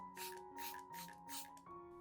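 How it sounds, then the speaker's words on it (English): Four short hissing bursts from a spray bottle misting moss, evenly spaced, close up and soft over a faint steady hum. "use a spray bottle to evenly moisten the moss"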